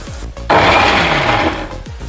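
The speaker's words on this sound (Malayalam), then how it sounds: "ഇപ്പോഴത്തെ തേങ്ങയും വെളുത്തുള്ളിയും ജീരകവും ചതച്ചുകൊണ്ട് വരാം" A kitchen mixer grinder coarsely crushing coconut, garlic, cumin and a green chilli for jackfruit seed thoran, one loud whirring pulse of about a second, starting abruptly and stopping just as suddenly.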